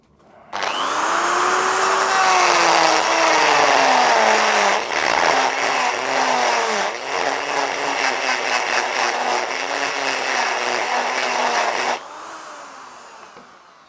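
Carbide burr in a power tool grinding out welds, a loud continuous high whine under load for about eleven seconds, pitch wavering as it bites the metal, then stopping abruptly.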